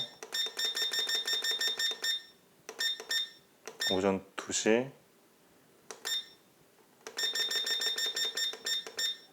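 Rapid repeating electronic beeps from a Sophlive SLMS-W2 LED digital alarm clock sound in bursts, interrupted briefly by a voice speaking, then resuming in a steady pattern.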